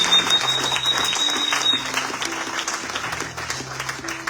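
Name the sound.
church congregation applauding the Lord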